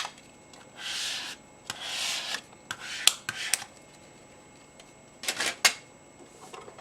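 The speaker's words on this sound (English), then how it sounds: "I'm going to use my scraper to get it on there nice and firm." A plastic scraper is pressed and dragged firmly across vinyl laid on a Cricut Joy cutting sheet, making several short, close, dry rasping strokes with brief pauses between them.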